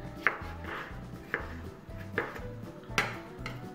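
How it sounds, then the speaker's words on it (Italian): A knife chopping a potato into small pieces on a board for a rice salad, about five spaced, sharp close knocks with a soft rhythm between them. "Ora taglio a pezzetti piccoli la patata."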